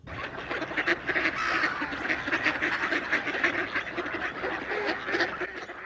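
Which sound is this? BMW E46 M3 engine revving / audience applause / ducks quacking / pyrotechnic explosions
ducks quacking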